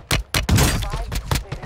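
Gunfire in the video game Warzone 2.0, a fast burst of loud shots layered with sharp impacts, mixed in with an excited player talking over the action.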